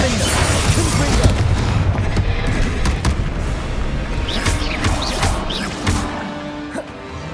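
Confringo spell explosions ring out in Hogwarts Legacy, repeated heavy booms and crashes layered with whooshing spell effects and combat noise throughout, loud and close.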